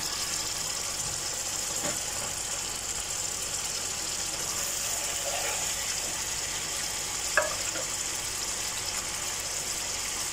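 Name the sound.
onions and dry spices frying in a pan for chicken kofta curry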